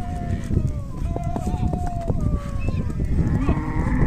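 A cattle herd arriving on a farm, with several cows mooing in drawn-out calls close by, hooves clip-clopping and people talking and calling over the animals.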